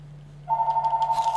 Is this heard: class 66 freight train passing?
no